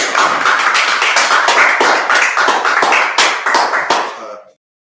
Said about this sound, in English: come on, let's clap it up